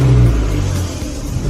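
A car with a torn outer boot on the front right half shaft creeps slowly forward with the steering at full lock, its engine giving a steady close rumble.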